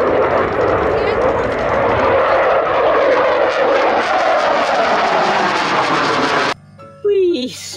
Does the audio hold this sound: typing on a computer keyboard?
no